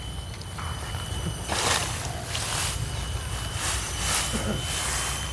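The engine of a grass-cutting machine, used to cut grass for cattle feed, runs steadily with a continuous droning hum and a faint high whine, close by and unbroken throughout.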